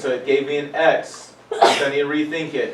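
A single sharp sneeze bursts out midway between stretches of a person speaking, brief and close to the microphone.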